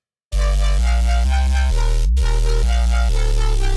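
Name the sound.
Serum 2 synth bass note with automated glide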